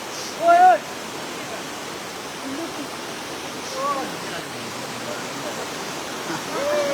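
Rushing floodwater pours in from Mizoram at Gudam Ghat, a steady broad roar of water that fills the scene with little change, while a voice speaks briefly over it.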